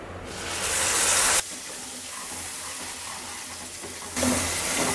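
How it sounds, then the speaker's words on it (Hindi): Onion, green chili and ginger paste fries in hot oil for chole, a loud steady hiss and sizzle that rises sharply at the start, drops to a softer crackle, then flares again near the end. "प्याज हरी मिर्च और अदरक को हम गोल्डन ब्राउन होने तक भूनेंगे।"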